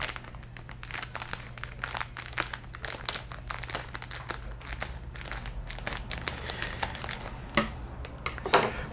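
Close, crinkly plastic rustling with repeated crunchy snips and scratches as scissors cut open the bag of a Hasegawa 1/24 Toyota 2000GT plastic model kit.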